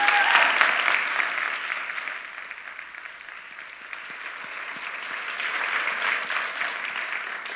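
An audience claps steadily after a Three Minute Thesis presentation, a sustained round of applause that dips slightly in the middle and then swells again.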